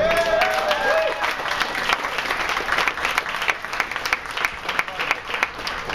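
Crowd at a political rally for a Democratic candidate in Arlington applauding, dense steady clapping throughout with a few cheers and whistles early on.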